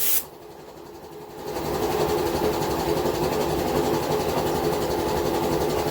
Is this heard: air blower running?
yes